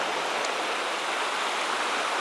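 Fast-running floodwater in Floyd County, Georgia, rushes in a steady, loud, broadband roar with no pauses, close by and alone without voices.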